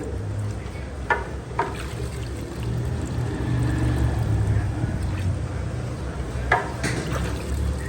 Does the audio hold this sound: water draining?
yes